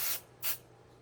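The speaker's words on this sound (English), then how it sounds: "505 spray is really awesome. You barely need any." Two short, close bursts of 505 adhesive spray hiss onto quilt fabric, each lasting about a fifth of a second with a brief pause between them, in an otherwise quiet room.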